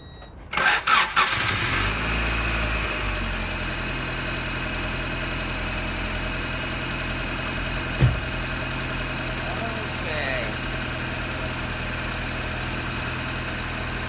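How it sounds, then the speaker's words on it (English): A 1992 Honda Accord engine cranks with a few quick bursts, catches and settles into a steady, even idle close by, with a single sharp knock partway through. "First time I will start the engine."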